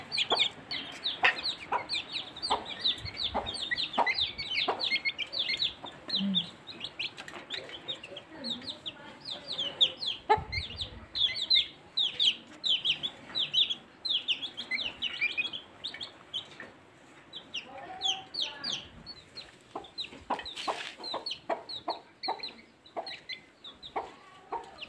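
A flock of hens being given medicated water with tetracycline clucks and chirps steadily for the whole stretch, close and busy, with faint background noise and no clear talk.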